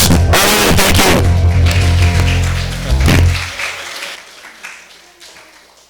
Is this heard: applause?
yes